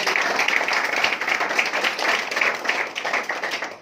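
Audience clapping at a presentation in honour of a presenter, loud dense clapping from many hands filling the whole stretch, close and steady, fading slightly at the end.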